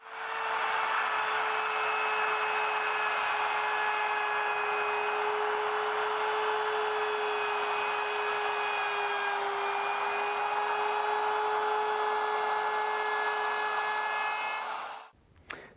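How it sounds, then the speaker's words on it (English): A handheld router rounds over the wooden loom of a Greenland paddle, a loud, steady high-pitched whine held for about fifteen seconds before it abruptly stops, with no speech. "if you're making this cut with a handheld router"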